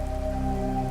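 Heavy rain pours down steadily, a dense, continuous hiss of drops striking a surface, loud and close with no voices.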